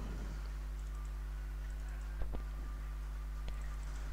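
A few sharp keystrokes on a computer keyboard, typing text for an After Effects title project, sound as isolated clicks over a steady electrical hum, with no talk.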